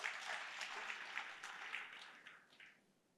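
Applause from a church congregation, a steady wash of many hands clapping that holds evenly, then thins and fades out toward the end.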